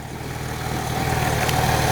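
A Porsche 911 GT3's 3.6 liter engine idles with a steady low rumble, loud and even, rising slightly in level, with no talk over it.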